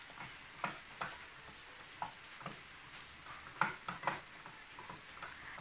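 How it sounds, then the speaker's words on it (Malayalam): Garlic sautéing in a pan for chilli potato, a soft steady sizzle under a handful of sharp spatula scrapes and clinks at irregular intervals, fairly quiet and close with no talking. "അതുപോലെ തന്നെ വെളുത്തുള്ളി ഇതെല്ലാം ഒന്ന് ആദ്യം ഒന്ന് വഴറ്റിയെടുക്കാം"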